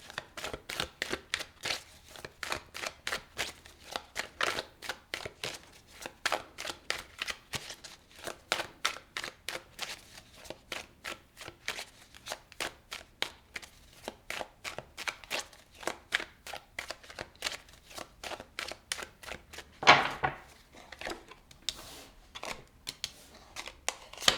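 Tarot cards shuffled and pulled in a long run of rapid, crisp riffling flicks, steady and close, with a brief sharper slap near the end and no talking.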